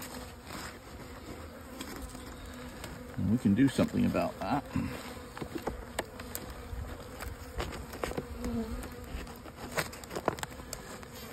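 Honey bees buzz steadily around a brood frame holding a small spring cluster, a close, continuous hum that swells briefly partway through while someone talks over it.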